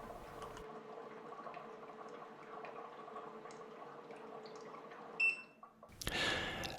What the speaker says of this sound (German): Wie ihr hören könnt, blubbert es jetzt auch mehr.